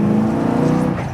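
Engine of a 1968 Mustang GT/CS restomod, a loud, close, steady low rumble held for about a second.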